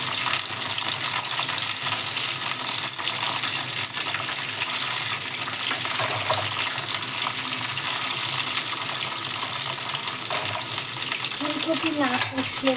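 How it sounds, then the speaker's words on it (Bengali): Cauliflower florets frying in a pan until reddish-brown, a steady broadband sizzle with stirring scrapes running throughout, close and fairly loud, no talking. "ফুলকপিটা লাল লাল করে ভেজে নেব।"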